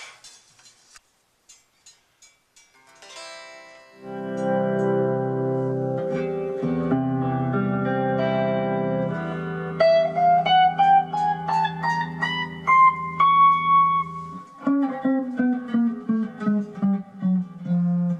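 Clean electric guitar notes and chords ring out, starting with light picked tones, then sustained strummed chords and rising slide-like melodic lines.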